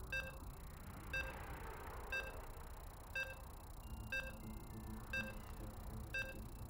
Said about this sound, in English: As you can hear the beeps, we're getting into that 4th game.